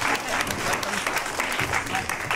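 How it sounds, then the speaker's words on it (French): An audience at an elderly residents' show in a care home in Moissac gives steady, dense applause that holds at an even level from start to finish, with faint voices mixed in under the clapping. "applaudissez-la encore"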